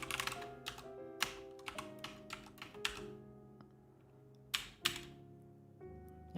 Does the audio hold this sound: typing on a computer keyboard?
yes